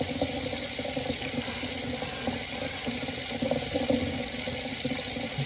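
Star San sanitizer solution is stirred in water, giving a steady, close, continuous watery swishing and trickling wash with no voices.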